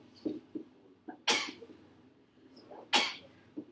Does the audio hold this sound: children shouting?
no